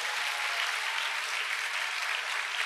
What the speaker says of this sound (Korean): 예, 큰 박수 부탁드립니다.